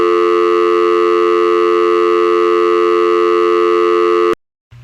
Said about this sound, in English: Okay, now the sirens are going off.